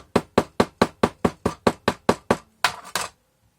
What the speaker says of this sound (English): Hammer that down into place.